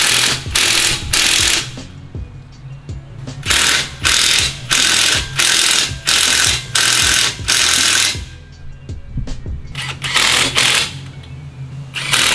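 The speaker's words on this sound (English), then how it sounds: "Hold the shock and ratchet her down." Ratchet tightening the rear shocks on a 2015 Toyota Tacoma during a Dobinson suspension install, heard as a series of loud, close bursts of rapid clicking separated by short pauses.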